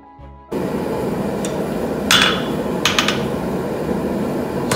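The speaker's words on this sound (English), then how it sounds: "By forging and shaping steel rods by hand, bending jigs and feet, lines are formed to compose the gesture." Steel rods being forged and shaped by hand, with a few sharp metallic hammer strikes landing over a steady background hum of workshop noise.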